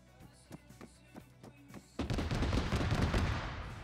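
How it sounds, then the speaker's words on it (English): Autocannon on a BMP armored vehicle in a military video game: a string of separate thudding shots, then a dense, loud burst of continuous fire. "Oh, that's some sort of autocannon."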